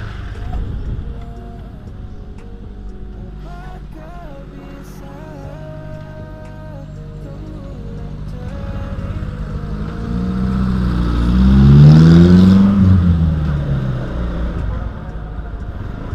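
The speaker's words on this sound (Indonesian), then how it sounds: "Mobil, ada mobil tuh." A car on a road draws near and accelerates past, its engine swelling to a loud peak before easing off, with people talking over it throughout.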